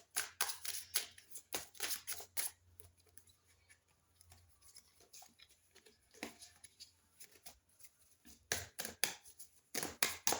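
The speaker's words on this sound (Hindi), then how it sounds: "पहले मैं कार्ड्स निकाल लेती हूँ फिर बताती हूँ।" Tarot cards shuffled and drawn by hand, giving bursts of crisp riffling and flicking that come in clusters at the start and end, with quieter handling in between.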